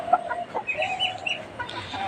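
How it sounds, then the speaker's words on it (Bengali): A hen, said to have laid an egg today, clucks in a short run of close, fairly loud calls with a brief pause between bursts, heard on its own without talk. "এই মুরগিটা আজকে সম্ভবত ডিম দিয়েছে।"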